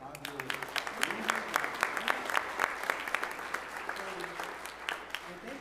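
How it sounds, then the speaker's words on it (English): An audience claps together at a town hall meeting, a steady, dense applause lasting throughout with a few sharper claps standing out and a faint voice underneath. "can we just clap it up for ourselves"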